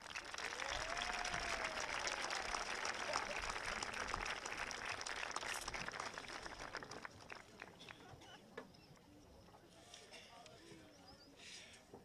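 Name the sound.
graduation audience applauding the graduates' supporters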